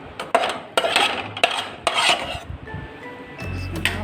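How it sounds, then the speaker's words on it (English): A spoon scrapes and clinks against a pot while beef stew is mixed, producing a string of close, uneven metallic knocks and rubbing strokes, with a brief tonal hum near the end and no talk. "Yes, so just mix that up there a little bit. Mix it up."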